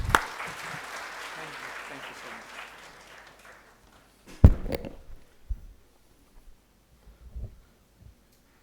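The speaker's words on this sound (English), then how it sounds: "A huge round of applause, please." Audience applause at a conference inauguration ceremony starts loud and fades over a few seconds, followed by a sharp thud and scattered quieter sounds with near silence.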